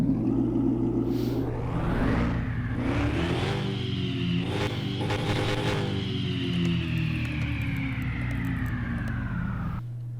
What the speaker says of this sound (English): So now let's get inside it and start it up and see how it sounds.